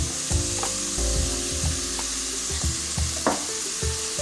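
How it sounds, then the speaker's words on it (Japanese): Sweet bean sauce is stir-fried in a pan with sake and soy sauce for sesame dandan noodles: a continuous close sizzle broken by repeated spatula scrapes and knocks, with no voices. "そしてお酒大さじ1、そして醤油大さじ1、これで炒めていきます。"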